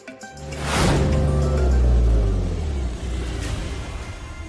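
A vehicle rumbles up close, its engine swelling into a steady, loud drone before easing off and idling as it arrives, with no talking heard.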